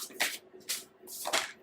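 Playing cards drawn one at a time from a deck, three quick papery slides and snaps spaced about half a second apart, close and fairly quiet with no talk over them.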